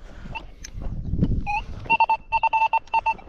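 A metal detector in a field at a medieval village site gives a strong, high reading, a rapid series of bright electronic beeps in short pulses after a rustle of handling, near and clear.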